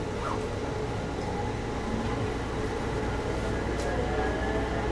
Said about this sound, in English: This train is departing.